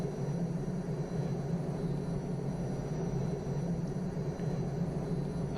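An Aerospatiale SA315B Lama helicopter's rotor begins turning, giving a continuous low, even engine-and-rotor rumble throughout, with no speech.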